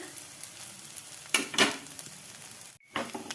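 A flatbread (ruti) frying in hot oil in a pan, a soft steady sizzle punctuated by louder crackling bursts as it is flipped and stirred with a spatula, with a sharp break near the end.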